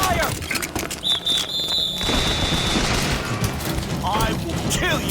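Gunfire in the video game Bioshock Infinite, loud sustained bursts of shots mixed with shouting voices and a high whine, continuous and close throughout.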